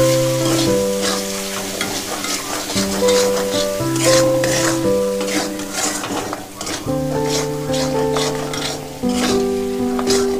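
Crab curry masala with Kashmiri chilli, turmeric, salt and tomato fries in a pan while a utensil stirs it. There is steady sizzling and repeated scraping against the pan under background music.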